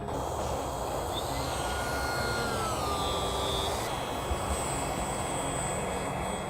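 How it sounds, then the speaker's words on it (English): A hover sled's motor drones steadily with a rising, whining tone as it works harder above hovering altitude, sustained and fairly even against a broad rushing noise. "you can hear the motor working harder when Riley flies the sled above its hovering altitude"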